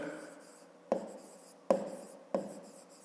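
Pen writing by hand on paper in a fifth-grade maths exercise, close and quiet, with three distinct tapping strokes spaced less than a second apart.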